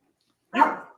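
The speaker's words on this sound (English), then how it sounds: "Why are you barking?" A single sharp bark from an indoor dog, one short loud burst close to the listener after a moment of silence, with no voices present.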